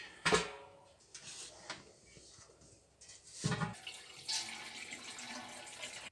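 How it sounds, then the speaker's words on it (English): Plum cider and water are poured into a WilliamsWarn Brewkeg fermenter, giving quiet, irregular splashes and gurgles with a couple of sharp knocks and clunks along the way. "I just transferred everything from there into the fermenter."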